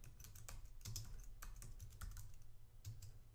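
Keys clatter on a computer keyboard as a netstat command is entered on a Linux server, a steady run of light, quick clicks with no voices.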